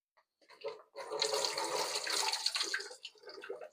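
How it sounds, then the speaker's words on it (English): Water pours and splashes steadily out of a bag of chitterlings into a bowl for a few seconds, close by, tapering off at the end. "I pour a little bit of this water out,"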